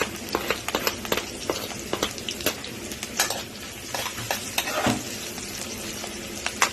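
Chopped sisig sizzles steadily in a hot pan as chili is added, with frequent scraping and clinking of a utensil stirring against the metal, close and continuous.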